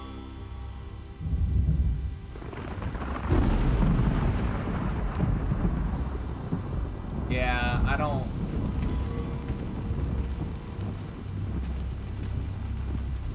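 Rain falling in a forest in The Last of Us Part 2, steady hiss of rainfall with low thunder rumbles, while a person talks briefly over it.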